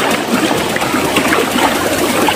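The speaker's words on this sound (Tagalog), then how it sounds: "Lakas ng daloy ng tubig kasi lagi na lang umuulan." Strong, fast-flowing water current swollen by constant rain rushes in a steady, loud broadband roar with churning and gurgling, close by and continuous, with no voices over it.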